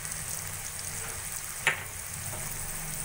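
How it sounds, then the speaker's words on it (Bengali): Spices with grated ginger and Kashmiri chili powder being sautéed for a vegetarian turnip curry, giving a steady low sizzle and frying hiss with one brief louder stir scrape partway through, no talking. "সবকিছু দিয়ে ভালো করে কষিয়ে নেব।"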